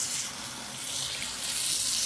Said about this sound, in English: First thing is to wash the nettles.